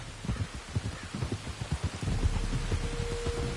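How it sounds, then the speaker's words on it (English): Rain falls steadily in Red Dead Redemption 2, a close, dense patter of drops with a low rumble swelling in partway through. "You were right about the damn rain."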